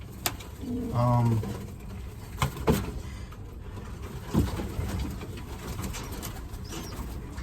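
Pigeons, including a pure wheat check bird, coo softly in a loft, with a few low coos, scattered rustles and faint knocks in the background, no voices.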